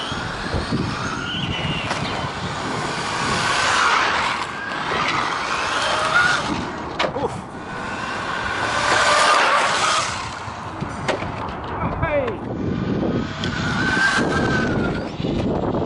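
A Zroad Comet RC car running fast on a 4S battery outdoors on a road, its high electric motor whine rising and fading as it passes near and far, with tire noise and no voices.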